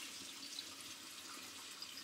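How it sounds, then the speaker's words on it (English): A kitchen faucet runs steadily while items are rinsed under it, a continuous close hiss of flowing water with no talking. "Turn on the water"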